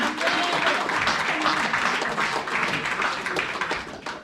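A church congregation applauds for several seconds in a steady wash of clapping that fades toward the end, with voices mixed in.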